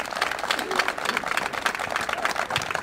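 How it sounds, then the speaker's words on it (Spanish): An audience at a municipal school event in San Miguel gives a loud, steady round of applause, a continuous dense clatter of many hands clapping throughout with no gaps. "Les pido un fuerte aplauso"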